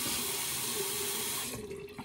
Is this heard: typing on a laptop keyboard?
no